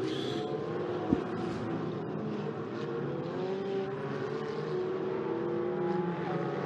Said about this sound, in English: the clock is running now with the cars being led around by the safety car.